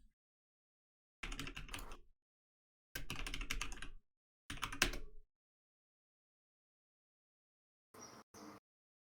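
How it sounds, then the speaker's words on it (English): Computer keyboard typing in three dense bursts of rapid keystrokes, close and clear with silent gaps between, followed by two short faint clicks near the end. "Did you just type it in?"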